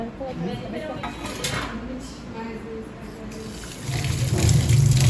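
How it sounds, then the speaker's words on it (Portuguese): A tap runs into a sink in a lab doing aggregate clay-lump testing, a steady hiss of water under people talking, swelling into a louder, fuller splash near the end. "pode desligar a torneira"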